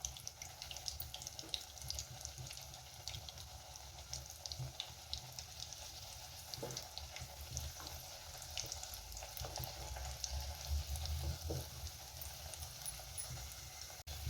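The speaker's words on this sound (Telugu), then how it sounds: "బ్రౌన్ కలర్ వచ్చేదాకా రెండు వైపులా వేపుకుందాం క్రిస్పీ క్రిస్పీగా" Stuffed potato and carrot snacks frying in oil, a continuous soft crackling sizzle with occasional pops, fairly quiet and steady, no voices.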